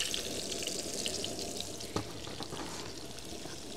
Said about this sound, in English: So I'm gonna throw on my onions.